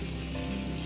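Chicken pieces and vegetables sizzle steadily in a hot grill pan, a close, continuous frying crackle with no pauses and no voices.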